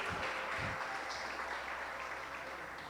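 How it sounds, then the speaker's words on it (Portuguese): A church congregation gives applause to the Lord, a fairly faint, diffuse wash of clapping in a large room, with a few louder low thumps at the start. "Dê um aplauso ao Senhor"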